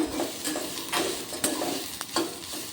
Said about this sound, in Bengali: দিয়ে হালকা করে এটাকেও 30 সেকেন্ড মতো নাড়তে হবে